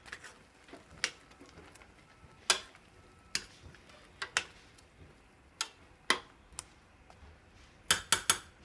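A spoon scrapes and clinks against a cooking pot while potato and ginger are stirred together. The taps come irregularly, sharp and fairly close, with quiet gaps between them and a closing burst of quick clinks.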